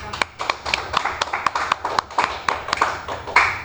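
Students in a classroom clapping in a loose, uneven burst of sharp individual claps, close and fairly sparse, with no talking over them.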